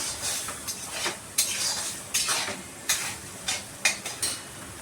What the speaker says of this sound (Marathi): चटणीला आहे ना सतत हलवायचं, नाही तर मग ते जळून जाईल ना.